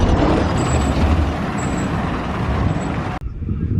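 A bus idles at a bus stop in Brixham, Devon, on a sunny day. Its engine gives a steady, close rumble with broad road noise that carries on evenly and then cuts off abruptly near the end.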